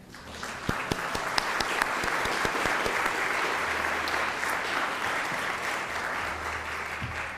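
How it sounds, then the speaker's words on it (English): A congregation at a temple rededication service breaks into a full round of applause, a dense continuous wash of many hands clapping that builds and holds steady for several seconds. "Can you give yourselves a round of applause?"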